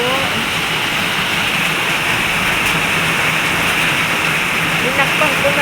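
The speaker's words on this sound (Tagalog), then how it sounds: "Malakas ang ulan." Heavy rain pours at night in a dense, continuous roar of hiss that stays loud and even throughout, with faint voices buried beneath it.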